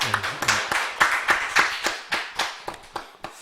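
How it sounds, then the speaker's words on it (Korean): A church congregation claps in a Sunday afternoon service. Sharp, close hand claps fall in a fairly regular rhythm of about three per second and gradually thin out toward the end. "하나님께 우리 영광의 박수 한번 올려드리겠습니다."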